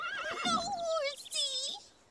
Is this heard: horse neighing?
yes